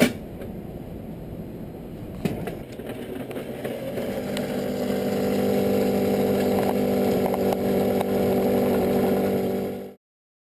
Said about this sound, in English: The first is to use a Wiley mill, like this one.